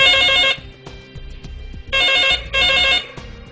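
A telephone rings as a call comes in to a latch security device, sounding in three loud electronic bursts separated by short pauses, with quieter background noise and no talking between rings.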